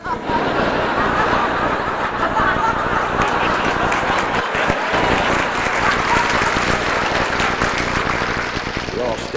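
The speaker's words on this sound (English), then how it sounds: "suppose one always hopes that they can get to the podium before the applause dies." Sustained audience applause fills an awards dinner hall honoring Orson Welles at the American Film Institute Life Achievement Awards, a dense steady roar of clapping with a few scattered chuckles, loud and continuous, briefly dipping near the middle.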